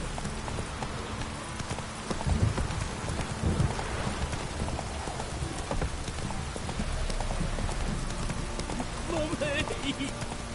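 Horse hooves clip-clopping in the rain in the Witcher video game, a steady trotting beat over pattering rain, with a voice speaking briefly.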